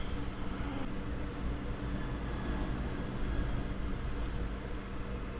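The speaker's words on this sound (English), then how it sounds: "You guys hear that plane?" An airplane flies overhead, heard as a steady broadband roar that stays at an even level throughout with no voices on top.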